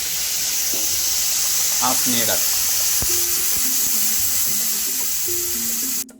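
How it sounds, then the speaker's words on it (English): Hot water goes into sautéed rice with turmeric in a pot, making a steady sizzle and bubbling hiss throughout, close and fairly loud, with a brief voice over it. "Adding hot water"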